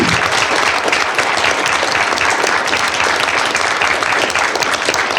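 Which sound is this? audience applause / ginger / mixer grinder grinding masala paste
audience applause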